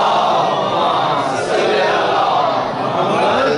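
A large crowd at a Muharram majlis reciting salawat together, a loud, dense chorus of many voices chanting in unison throughout.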